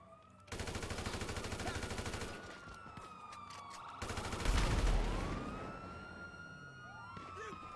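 Police shootout in GTA 5 at Sandy Shores: bursts of rapid automatic gunfire and shots under wailing police sirens that sweep up and down, loud and dense, with no talking.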